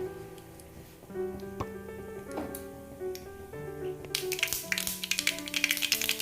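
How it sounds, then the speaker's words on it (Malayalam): Mustard seeds popping in hot coconut oil in a pan on a gas stove, the start of a drumstick masala curry; sparse ticks give way to dense, rapid crackling pops over the last two seconds, against a steady tonal background. "കടുകൊന്ന് നന്നായിട്ട് പൊട്ടിക്കോട്ടെ"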